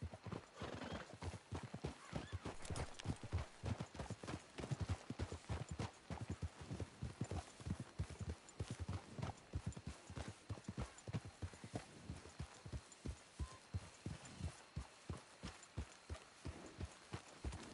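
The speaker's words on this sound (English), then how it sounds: "We should leave the horses." Horses' hooves clip-clopping in the video game Red Dead Redemption 2, a steady, fairly quiet run of hoofbeats lasting throughout, with a whinny among them.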